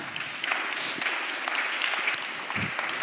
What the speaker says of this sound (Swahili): Simpigie Yesu makofi basi.